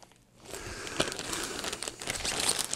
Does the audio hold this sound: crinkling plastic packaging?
yes